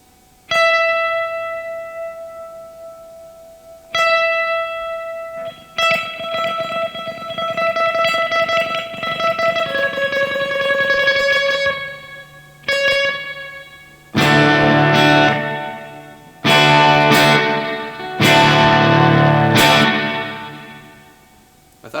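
A Boss DD-500 digital delay pedal on its Polizei echo preset, playing bursts of electric guitar notes and chords that ring out with repeating echoes, separated by short pauses, with denser distorted strums near the end.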